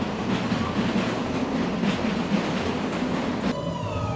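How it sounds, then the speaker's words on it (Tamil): A New York City train runs past close by, a steady loud rumble and rattle of wheels on rails, with a brief squeal near the end. "இந்த ட்ரெயின் ஓடியே சத்தம் போட்டுட்டு இருக்குது"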